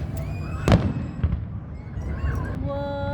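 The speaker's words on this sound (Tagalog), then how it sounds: "You like the fireworks?" Fireworks at an outdoor fair, with one strong boom early on and a few fainter pops and crackles after it, set against steady crowd murmur.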